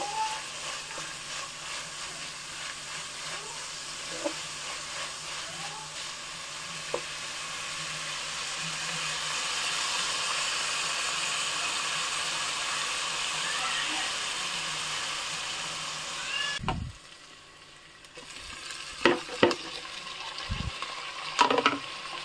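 Onions fry in a pan with a steady hiss and sizzle for most of the stretch, then the sizzle drops away near the end, where a few stirring knocks and clatters sound close by.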